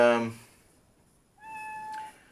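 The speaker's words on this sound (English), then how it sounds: "And I have a cat." A voice speaks briefly, then a cat lets out a single clear, fairly close meow that holds for a moment and fades.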